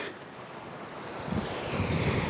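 Ocean waves wash in at a natural hot spring beside the sea among volcanic black rocks on Yakushima, a continuous close rushing surf with wind noise that swells louder toward the end.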